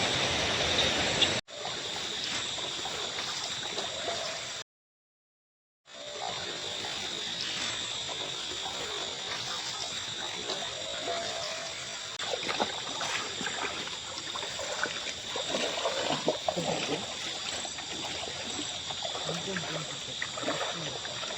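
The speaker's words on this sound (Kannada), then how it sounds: "ನೀರಿನ ಸೌಂಡ್ ಜೋರಾಗಿ ಕೇಳ್ತುಂಟು" A big forest river roars loudly nearby, a dense steady rush of water that continues throughout with one brief cut to silence near the start.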